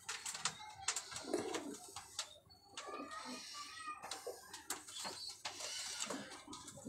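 Pigeons kept as pets, Kamangar and Golden Teddy breeds, coo softly in short repeated bursts amid scattered clicks and rustles, close by and fairly quiet.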